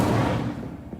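Incendio fire spell cast in the video game Hogwarts Legacy: a single loud, dense burst of whooshing flame that fades over about a second, alone without talk.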